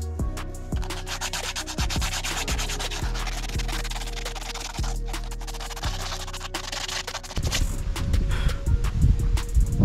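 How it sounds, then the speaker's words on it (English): Plastic bumper filler is sanded with 80 grit sandpaper in steady, close, rhythmic rasping strokes, growing rougher and louder toward the end. "What we're going to do now is sand it with 80 grit."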